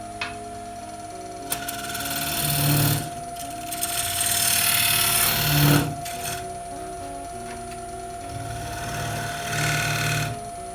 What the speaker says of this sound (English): What you need to do now is we'll just clean it up with the skew chisel.